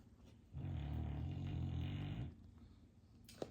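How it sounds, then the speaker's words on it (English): A single long, low, rumbling snore-like rasp from a pup sleeping nearby, lasting under two seconds, then quieter room noise and a brief sharp tap. "He's over there snoring."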